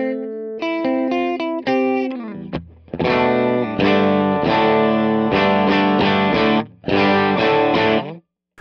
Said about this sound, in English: That's how you can make a telly sound fat.